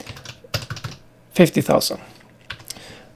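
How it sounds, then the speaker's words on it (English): Quick bursts of clicking keystrokes on a computer keyboard come in short irregular runs, close by, alongside someone speaking briefly. "just typing it here"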